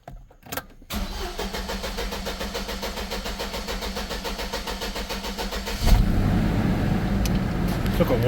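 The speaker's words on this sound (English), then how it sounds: "Now let's start it up and let's see what our actual fuel pressure is." A car engine cranking for a long stretch with rapid rhythmic turnover, then catching and starting into a louder steady idle; a faint clunk comes before the cranking begins.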